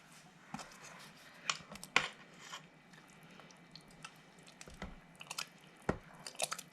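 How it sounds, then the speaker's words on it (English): Meat sauce is stirred in a pot, giving quiet wet squishing and scraping with a few sharper clicks and splats at irregular moments, close up and fairly faint, with no voices. "We'll give that a stir."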